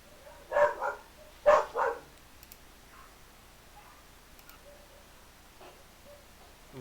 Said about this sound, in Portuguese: parece que todos os cachorros do bairro resolveram latir junto